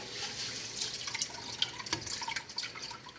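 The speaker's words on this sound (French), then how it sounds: "On met de l'eau, on lave avec les mains, on jette l'eau." Hands wash djon djon rice in water, with splashing, dripping and sloshing sounds at moderate loudness throughout and no speech.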